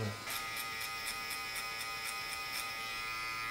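A BaBylissPRO LoPro hair clipper runs steadily during a fast fade haircut, a close, even electric buzz with a fine pulsing rattle and no talk over it.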